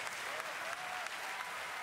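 A large arena crowd at The International 2017 Dota 2 event cheers and applauds a cosplay contest winner, a steady, dense roar of clapping and shouting that fills the whole moment.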